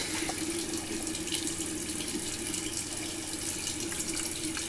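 Water runs steadily from a tap into a sink during face washing, a close, constant rushing stream that does not let up.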